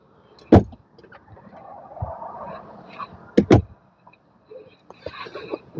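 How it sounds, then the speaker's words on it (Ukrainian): The sliding armrest in a 2011 Renault Grand Scenic 1.6 dCi being moved, close-up: two sharp plastic clacks a few seconds apart, with soft rubbing and sliding noises between and after them. "Ось такий у нас підлокітник, який їздить."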